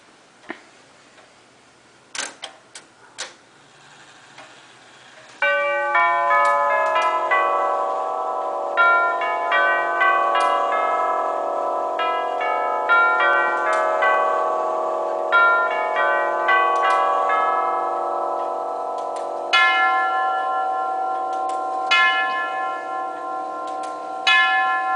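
A Herschede hall clock plays the Canterbury chime: a few soft ticks, then loud, ringing bell-like tones rise in a slow melodic sequence that sustains and overlaps for about twenty seconds, close and clear.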